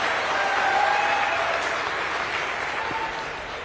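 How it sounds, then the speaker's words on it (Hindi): Sustained crowd applause at a youth gathering with the Uttarakhand chief minister, a steady wash of many hands clapping that eases slightly toward the end, no speech over it. "अरे अब इसमें भी तो ताली बजाओ भाई"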